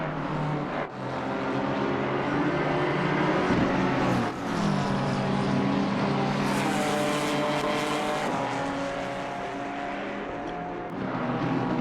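GT race cars, with slower GT4 cars among them, scream through a high-speed complex at Silverstone in Assetto Corsa Competizione. Loud, continuous engines rise and fall through gear changes as the cars run close together, with no talk.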